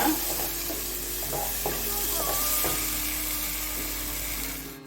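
Masala with onion and tomato being stirred in a hot pan for goat intestine gravy, a steady close sizzle with scraping stir strokes throughout, no one talking.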